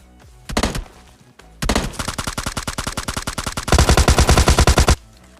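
Automatic gunfire in the mobile game PUBG Mobile Lite: a short burst, then a pause, a long rapid volley and a heavier, louder final burst, all close and sharp.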